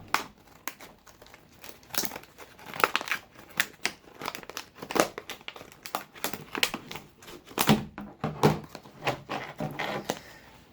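Plastic camera packaging for a Vivitar DVR914HD action camera being cut open, with close irregular crinkling, snipping and crackling bursts of varying loudness and no speech.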